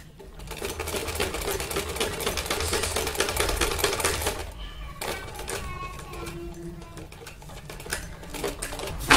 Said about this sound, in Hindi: हम पट्टी को इस तरह से पहले फोल्ड करते हुए इसके ऊपर सिलाई लगाएंगे